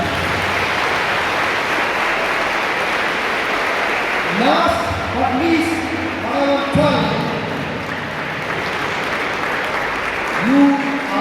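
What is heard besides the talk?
auditorium audience applauding at farewell event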